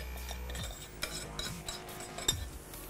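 Warm cooked quinoa is scooped into a bowl, giving soft scraping and stirring sounds with a few light clinks of a utensil against the dish, close and quiet.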